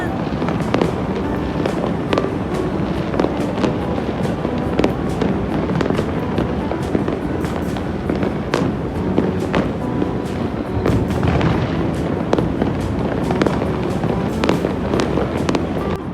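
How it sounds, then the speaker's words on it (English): Fireworks burst over the Taguig and Makati skyline in Manila in a loud, relentless barrage of crackling pops and booming thuds, heard close up with wind buffeting the microphone. "we were able to see the awesome fireworks in Taguig and Makati's skyline"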